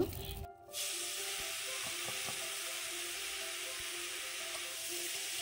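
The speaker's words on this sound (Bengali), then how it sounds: "তো কড়াইয়ের মধ্যে আবারও তেল দিয়ে দিয়েছি, শাকটা ভালো করে ভেজে নেব" Greens frying in oil in a wok for a Bengali leafy-green dish, a steady soft sizzle and hiss running evenly throughout after a brief clatter at the start, with faint scattered ticks.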